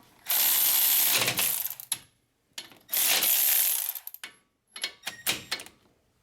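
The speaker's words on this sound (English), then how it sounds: "So now I'm going to use our electric ratchet to tighten them." An electric ratchet tightening caliper bolts on a Chevrolet Silverado wheel hub: loud, whirring mechanical bursts lasting about a second or more each, separated by pauses, then shorter clicking spurts.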